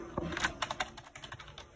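Fast typing on a faulty computer keyboard at a PC, a quick run of crisp, close key clicks in an irregular rhythm with no talking.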